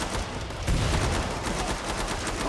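Rapid gunfire rings out in the shooter game Killing Floor 2, with a dense, loud, continuous burst of overlapping shots and no pauses between them.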